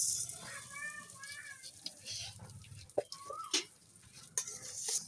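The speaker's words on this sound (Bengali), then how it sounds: "সরিষার তেল দিয়ে এগুলো হালকা ভিজে নেব।" Vegetables lightly frying in mustard oil make a soft, crackly sizzle with stirring scrapes and clinks, fairly quiet and uneven, with chirping birds or clucking poultry audible in the background.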